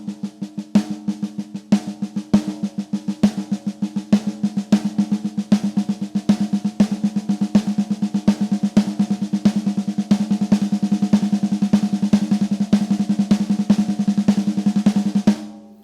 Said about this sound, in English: So snare drum, we're going to sound like this.